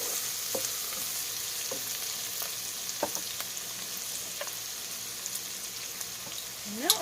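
Bacon sizzles and crackles steadily in a pot for minestrone soup, a continuous close frying hiss with occasional pops and light stirring.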